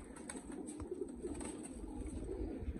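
Pigeons of the joron breed coo softly in a small flock, with repeated low throaty calls overlapping at a moderate distance over a faint background hum, and no one speaking.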